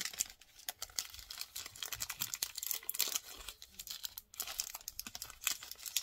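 Foil packaging on chocolate candy crinkles and tears in close, irregular bursts of crackling, fairly quiet, with short pauses between handling sounds.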